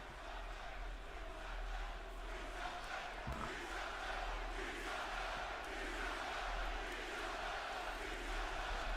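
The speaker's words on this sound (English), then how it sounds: "Crowd was fucking shouting" A large arena crowd at Monday Night Raw wrestling shouting and roaring in a continuous dense wash of voices, heard from a distance as if through a broadcast.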